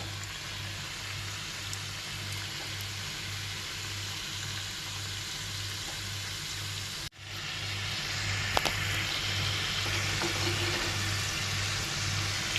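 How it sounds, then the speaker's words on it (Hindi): Gujiya deep frying in hot oil, a continuous bubbling sizzle with a pulsing low hum beneath, briefly cut off and then resuming slightly louder, with no talk. "अब मैं इसमें एक एक गुजिया डालूँगी और इसको अच्छे से डीप फ्राई कर लूँगी"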